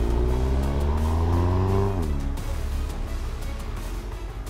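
An Audi TT Coupe engine accelerates hard, its rising whine climbing steadily through the gears before a brief drop at a shift, loud and close with no talking.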